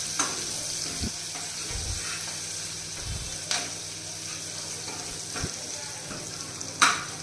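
Chopped onions sizzle steadily in a hot pan while a spoon stirs them, with a constant frying hiss broken by a few soft scrapes and clinks against the pan.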